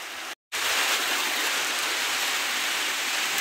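Heavy rain pours outside a house during a typhoon storm, a dense, steady roar of falling water that drops out for a moment and then resumes at full strength, with no voices.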